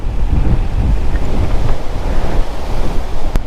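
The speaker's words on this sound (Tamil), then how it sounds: "பயங்கரமாக காற்றடிக்குதாங்க." Strong wind roars across the microphone at a hilltop viewpoint near Palamalai, a continuous loud, gusty buffeting with no voices.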